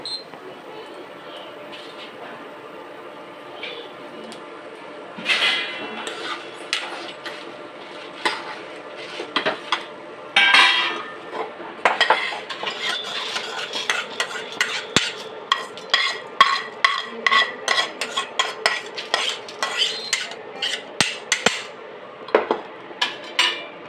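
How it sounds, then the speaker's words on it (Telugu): Gangavayila (purslane) greens are stir-fried with tamarind in a pan. A spatula scrapes and clinks against the metal in irregular strokes that grow busier and louder over a low background hum. "అందులోనే చింతపండు వేసుకోవచ్చు మళ్ళీ మొత్తం ఇట్లా బాగా వేపుకోవాలి"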